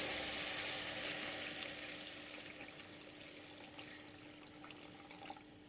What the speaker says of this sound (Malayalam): ഇനി നമുക്കിതിലേക്ക് കുറച്ച് തിളപ്പിച്ച് വെള്ളം കൂടി ചേർത്ത് കൊടുക്കാം.